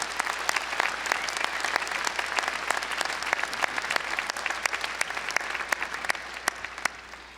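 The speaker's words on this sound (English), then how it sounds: "Let's give them a round of applause." Sustained applause from the crowd at a Weber State University fall commencement ceremony, dense and steady with sharp individual claps standing out, continuing evenly throughout.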